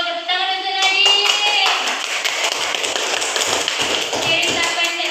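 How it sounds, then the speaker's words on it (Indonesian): Classroom of primary school pupils clapping for a classmate during an Indonesian language lesson, dense steady applause over several seconds with a voice talking over the start. "Tepuk tangan untuk Nadine"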